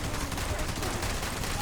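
A gun firing in the Fallout 76 video game, dense continuous gunfire heard up close and loud, blending into a wall of noise with no clear gaps between shots.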